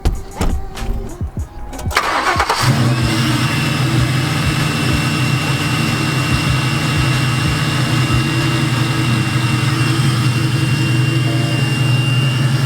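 A nitrous car engine with a Typhoon manifold cranks with rapid chugging, catches after about two seconds, then runs on in a loud, steady roar with a faint whine on top.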